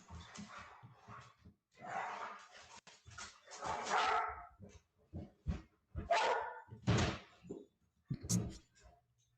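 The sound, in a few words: dog barking, played video clip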